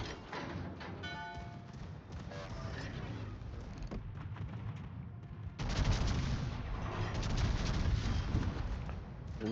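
Battleship Victoria unleashing burst fire in World of Warships, a game-audio barrage of heavy gun blasts and booming rumble that swells suddenly louder and more intense partway through, over a continuous din of naval battle.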